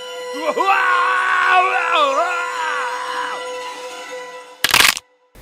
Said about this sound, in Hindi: एंड्रयू की टांग टूट गई और वह दर्द से चीखने लगा